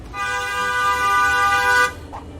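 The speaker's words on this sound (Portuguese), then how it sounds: "uma buzina de carro tem cerca de 90 decibéis" A car horn sounds one sustained, steady honk for nearly two seconds, loud and close, then cuts off sharply and leaves faint background noise.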